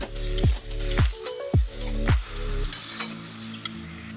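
Radish frying with salt and spices in a pan, stirred, gives a steady sizzle with a few soft clinks and scrapes. Loud descending tonal sweeps repeat every half second over the first two and a half seconds.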